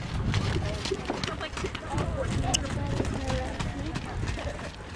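Horses at a show moving at a strong trot, with steady rhythmic clip-clop of hooves close by and continuous, fairly loud, under an announcer and other voices.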